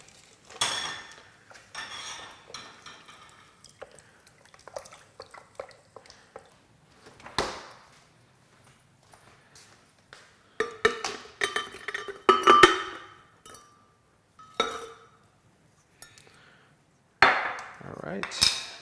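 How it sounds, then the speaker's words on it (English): A utensil stirs strawberry sorbet mixture with sugar water in a cool bowl, giving irregular clinks, scrapes and taps against the bowl, close and moderately loud, with brief pauses between bursts. "we're going to stir it for just a little bit, get it working in the cool bowl here"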